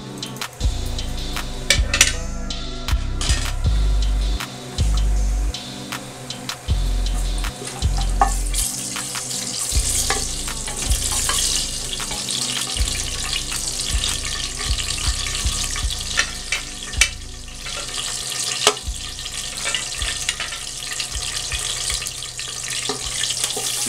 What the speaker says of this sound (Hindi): इसमें ये तेज पत्ता दालचीनी इलायची शाहजीरा ये सब पका लें